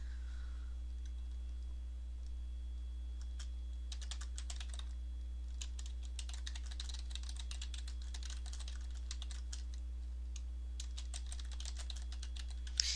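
Fast, irregular key clicks from a computer keyboard, quiet and close, arriving in bursts over a steady low electrical hum with no talking.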